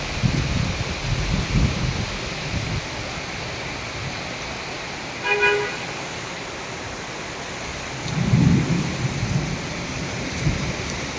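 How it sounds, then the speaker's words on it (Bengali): A heavy thunderstorm with strong wind and steady rain over Uttara, Dhaka: a constant rain hiss with two low rolls of thunder, one near the start and one later. "এই যে বৃষ্টি, এই যে বৃষ্টির মধ্যেও গাড়ি চলাচল করতেছে।"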